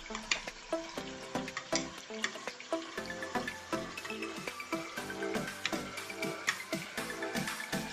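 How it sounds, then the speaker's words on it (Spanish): Thin-sliced potato chips frying in hot oil, a busy crackling sizzle with rhythmic stirring clatter throughout, close and moderately loud. "vamos a terminar de freír esta tanda de papitas"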